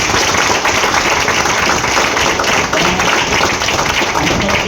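An audience at a business success-story event applauds the distributors and coordinators: a dense, loud, continuous roar of clapping that holds steady without pause, with no distinct voices.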